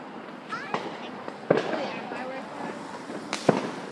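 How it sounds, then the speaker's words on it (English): Car fireworks at a Fourth of July celebration pop in a few sharp, separated bursts, two louder cracks standing out, heard at moderate distance with people talking nearby. "Ooh, more car fireworks."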